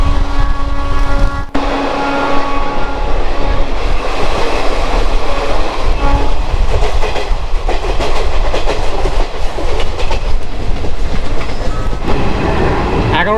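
Passenger train running from Howrah toward Asansol, a loud, steady close rumble with rhythmic clickety-clack of wheels over rail joints throughout, no talk.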